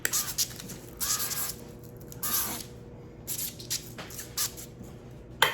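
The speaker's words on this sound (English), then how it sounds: "I gotta spray it. So I just have some grapeseed oil here." Several short bursts of grapeseed oil spray hiss onto a beef tenderloin in quick succession, close up, with brief pauses between them and no talking.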